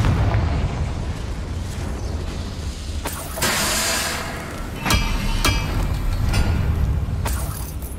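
Spell blasts from the Confringo fire spell in Hogwarts Legacy, with repeated booming explosions and sharp bursts over a continuous roar of game ambience.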